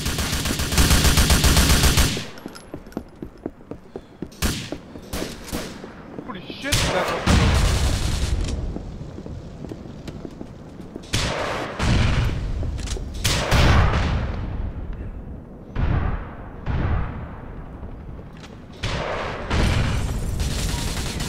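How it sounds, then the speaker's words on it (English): Grenade blasts and gunfire in the GTA IV Cops 'n' Crooks mode come as loud bursts of shots and booms in clusters across the clip, a heavy opening burst and then repeated volleys, with game chatter mixed in. "they're trying to drop nades on me"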